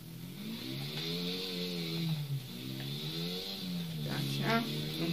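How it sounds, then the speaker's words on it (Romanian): A motorcycle engine in GTA 4 revs up and down in repeated swells, a mid-pitched droning whine that rises and dips over steady background noise. "Cum conduc cu motor."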